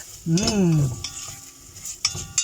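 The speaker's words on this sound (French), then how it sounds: "je fais revenir mes lardons" Lardons fry in a pan at close range, opening with a burst of sizzle and a scraping stir, then settling into a quieter crackle broken by a few sharp utensil clicks.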